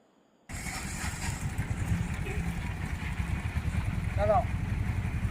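A motorcycle idles nearby with a low steady engine rumble after an abrupt start, outdoors near a resort, with a brief faint call or horn-like tone partway through.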